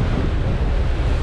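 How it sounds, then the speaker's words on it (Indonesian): Open sea water splashing and churning as fish leap up from below near a ferry at Ulu Siau, a steady broadband wash with low rumble and wind buffeting the microphone, no voices. "Berkeciprat ini lautnya karena ikannya muncul dari bawah dan melompat-lompat."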